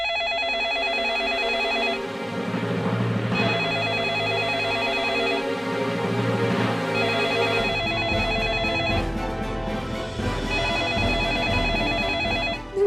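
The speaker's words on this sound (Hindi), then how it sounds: "पापा ने ही फोन किया होगा।" A telephone rings in repeated electronic trills with short gaps between them, loud and close, layered over background music with no talking.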